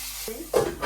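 Fish seasoned with salt, turmeric and green chilli fries in a pan, giving a short burst of sizzling and stirring that grows louder toward the end.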